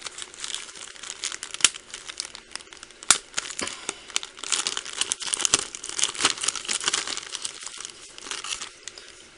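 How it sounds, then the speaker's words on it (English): A plastic bag of polymer clay is pulled open with close, continuous crinkling and sharp tearing snaps, fairly quiet, with no talking. "Get the bag open."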